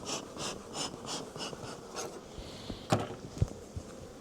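Bees buzz in pulsing waves close by around an open hive during queen-cell work, with a few soft clicks and knocks of handled frames near the end.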